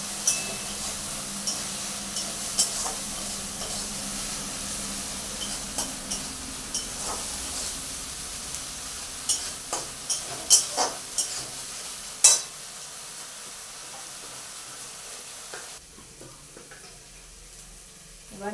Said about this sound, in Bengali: ভালো করে নেড়ে নেবো মশলাগুলো।